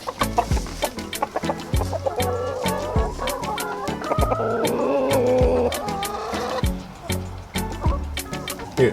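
Chickens, including a rooster, cluck repeatedly in fresh snow during an early snowstorm, with their calls rising and falling over frequent sharp clicks and taps close by.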